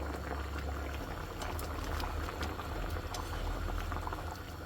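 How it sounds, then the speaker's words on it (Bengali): Rohu fish with potato and tomato simmering in a covered pan, a steady close bubbling boil that runs evenly throughout with no talk. "এখন আমি ঢেকে ঢেকে মাছটাকে খুব ভালো করে রান্না করব"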